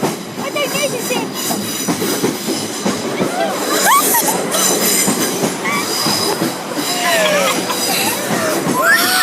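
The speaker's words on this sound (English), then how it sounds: "it's a tank carriage!" A freight train with tank wagons rumbles steadily past a level crossing at close range, with loud continuous rolling noise and wheel squeals rising above it, while people talk nearby.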